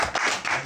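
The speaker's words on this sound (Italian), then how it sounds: "vorrei fare un applauso sia per Santina Amici" Brief burst of audience clapping honoring two musicians at the award ceremony of the 11th edition of Otto Milioni, a short dense patter of hands lasting under a second.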